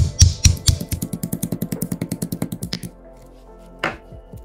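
Roasted cardamom pounded into fine powder in a mortar for Sri Lankan payatham paniyaram, a quick run of about twenty steady, close thuds that then stops, leaving near silence and one faint knock.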